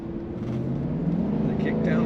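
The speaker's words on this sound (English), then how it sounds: "The kickdown works, and you feel the power." A 1989 Mercedes-Benz 560SL convertible accelerating hard on kickdown, a steady low engine drone rising in intensity under road and wind noise, heard from inside the car.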